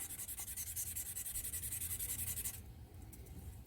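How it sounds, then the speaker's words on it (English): Sandpaper is rubbed back and forth over small metal nuts to make a shiny surface for soldering, a close rhythmic scratchy rasp of quick even strokes that softens and slows near the end. "we're going to sand them to get a shiny surface"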